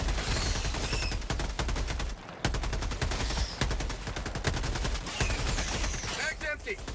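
Sustained rapid automatic gunfire aimed at swarming bugs in Helldivers 2, a dense, unbroken rattle of shots that pauses briefly midway, with faint voices underneath.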